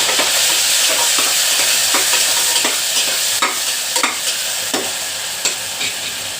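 Onion and tomato sautéing in a pan for rice and lentil dish, a loud, continuous close sizzle broken by regular scraping stirs of a spatula, with no talk.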